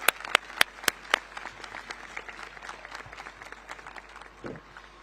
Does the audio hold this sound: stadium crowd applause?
yes